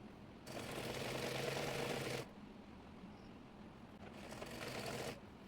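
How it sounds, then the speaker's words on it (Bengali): Sewing machine stitching the side seams of a chemise, two bursts of fast, even mechanical whirring with a short quiet gap between, fairly faint and close. "এরপর সাইড ফাড়া সেলাই করে নেব।"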